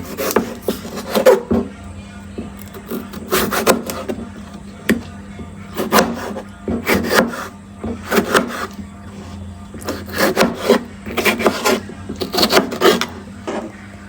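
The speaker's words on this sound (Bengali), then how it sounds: "এখন লাস্ট টমেটোটা কেটে নেব" Tomato being chopped with a knife on a board while making vegetable khichuri, giving bursts of quick, close, crisp chopping strokes separated by short pauses, with no talking.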